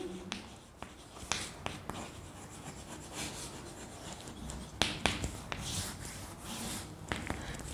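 Pen or chalk drawing a line on a board during a geometry construction, quiet scratchy strokes and rubbing with small taps as the tip meets the surface, close and without speech.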